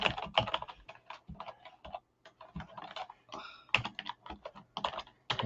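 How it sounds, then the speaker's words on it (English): Someone types a link on a computer keyboard in irregular bursts of quick, close key clicks with short pauses between runs. "Typing a link."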